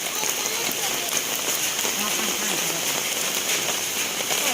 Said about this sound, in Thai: ฝนตกดินค่ะ กางร่มไปค่ะ